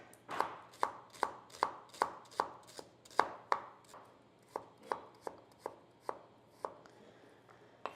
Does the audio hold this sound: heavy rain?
no